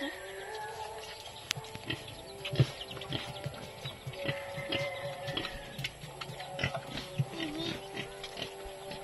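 Three pregnant crossbred sows on a farm grunt and snuffle in irregular low bursts, with clattering and rustling around them, moderately close and fairly quiet, with no talk.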